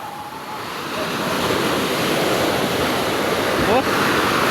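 Big ocean waves crash onto a sandy beach in a continuous loud roar of surf, with wind noise buffeting the microphone close by.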